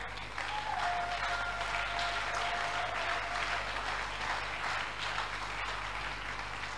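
Church congregation applauding steadily, a dense, sustained wash of many hands clapping at even loudness throughout, with a faint tone briefly audible beneath.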